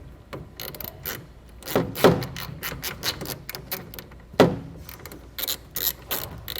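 A 7/16 ratchet tightening a mounting bolt for a retractable hard tonneau cover on a 2018 Chevrolet pickup bed: rapid, close clicking from the pawl, running in quick bursts with a few louder strokes, and no talking.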